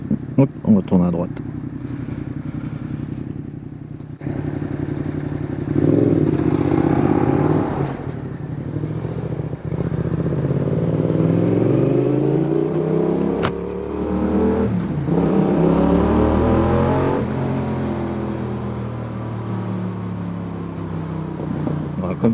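A 2019 Yamaha XSR 700 motorcycle with a newly fitted aftermarket exhaust rides on the road, its engine revving up and down through gear changes in a throaty, rising and falling drone, while the rider talks over it.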